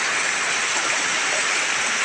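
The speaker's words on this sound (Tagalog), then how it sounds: "Biglang lumakas ang ulan, buti hindi ako umalis." Heavy rain pours down steadily in a dense, loud, unbroken roar of broadband hiss with no pauses and no voices.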